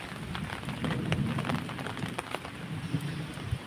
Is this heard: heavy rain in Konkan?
yes